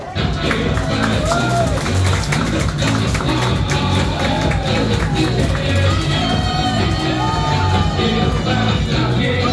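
Crowd at a child's seventh birthday party at a Jollibee venue cheering and clapping for the birthday celebrant, loud and continuous with yells and whoops over music.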